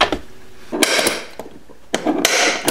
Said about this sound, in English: Get all the holes center punched.